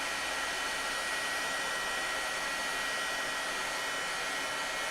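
A heat tool blows hot air to melt embossing powder, giving a steady, loud, continuous whooshing roar that runs unbroken throughout with nothing else audible.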